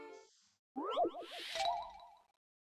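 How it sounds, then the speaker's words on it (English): A phone notification chime going off during a Professor Layton puzzle game: a short rising chirpy jingle followed by a bright ringing tone, fairly clear and alone after brief game music. "my phone just went off there"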